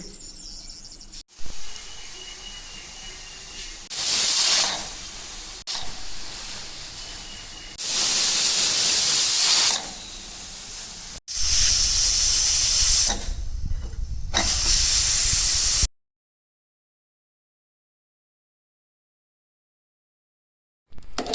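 A pressure cooker cooking vegetable sambar with dal and tomatoes releases loud, sustained bursts of hissing steam in several separate blasts, close by, with quieter background hiss between them and a silent stretch near the end.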